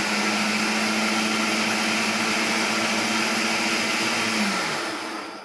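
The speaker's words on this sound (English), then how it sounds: "All right, so into the food processor. Chop it up." A food processor chops garlic in a steady, loud motor whir with a sustained hum that holds for several seconds, then winds down and tails off near the end.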